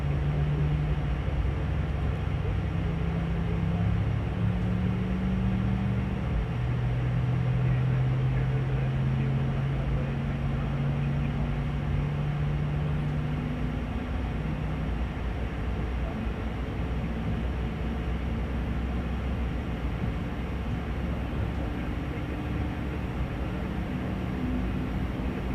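An Airbus A220 jet engine spools up during start, a loud, continuous broadband roar with slowly shifting low tones, heard steadily from inside the cockpit.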